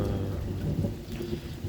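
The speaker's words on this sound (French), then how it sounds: "l'orage juste avant qu'il passe" Thunderstorm just before a hailstorm, with steady rain and low rolling thunder rumbling throughout, loud and close.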